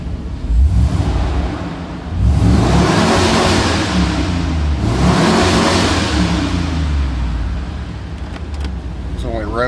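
A 1997 GM 454 Gen 6 GMT400 pickup V8, with its exhaust headpipe gasket newly replaced, revs loudly up to high RPM twice in close succession, then idles before a final clatter.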